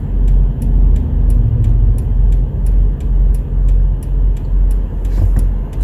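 Lexus LX570 SUV accelerating hard on the road, a loud low engine rumble with steady road noise and a regular rhythmic ticking throughout, heard from inside the cabin.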